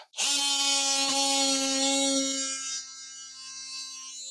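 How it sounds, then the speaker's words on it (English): An oscillating multi-tool cuts off wooden shims during a kitchen cabinet installation, giving a loud, high buzzing whine that starts abruptly, holds for a couple of seconds, then drops to a quieter buzz. "I'm just going to cut off all these shims here with my multi-tool"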